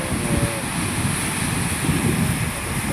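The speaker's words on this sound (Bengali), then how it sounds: "যেমন বৃষ্টি তেমন বাতাস" A storm rushes outdoors with heavy rain and strong wind, a loud continuous roar and buffeting gusts against the microphone with no pauses.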